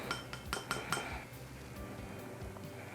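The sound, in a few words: scooping brown mica pigment into a container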